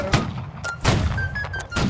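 Musket volley fire in a Holdfast: Nations at War line battle, with several sharp cracks and thuds spaced across the moment, loud and close, rolling over one another with no speech.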